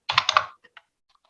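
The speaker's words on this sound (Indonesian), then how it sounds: "Tetapi terlebih dahulu Anda mengetik secara manual daftar pustaka." Bursts of fast keystrokes on a computer keyboard while a bibliography is typed by hand, a quick cluster of clacks followed by a few sparse, softer taps, close and clear with no talking.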